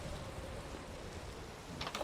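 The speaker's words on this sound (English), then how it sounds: "Oh, and we have some cozy rain to," Rain falling in a Minecraft homestead world: a soft, steady hiss of rainfall heard faintly and evenly, with a few light taps near the end and no voices.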